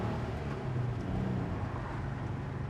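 A 23-window Volkswagen bus engine purrs under acceleration while driving on a wet road in the rain. A low, steady rumble blends with road and tire noise, heard faintly from inside the vehicle.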